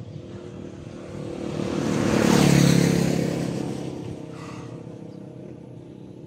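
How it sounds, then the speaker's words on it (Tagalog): Motorcycles approach along a road, a rising engine roar that swells to a peak midway, then fades back into a steady background rumble. "May mga motor na papunta dito mga tol."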